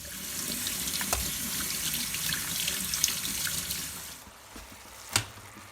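Brine from canned butter beans pours through a colander in a steady, close splashing rush for about four seconds, then stops, followed by a single sharp clunk.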